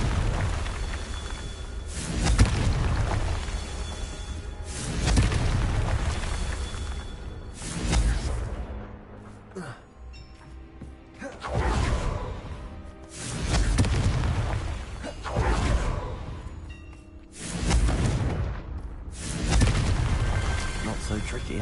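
Confringo fire spells explode repeatedly in Hogwarts Legacy combat, a series of about eight loud booming blasts with rumbling tails, spaced a few seconds apart over continuous game sound.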